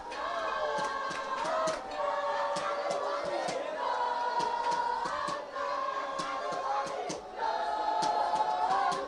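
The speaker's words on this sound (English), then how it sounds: "And the crowd roars." Spectators at an amateur rugby derby roar and chant steadily for several seconds, with rhythmic singing and sharp claps or shouts cutting through the sustained crowd noise, heard from some distance.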